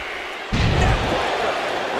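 A wrestler slams hard onto the mat from a scissors takedown, a sudden heavy thud that bursts out of the background roar of a loud arena crowd, which keeps rumbling afterward.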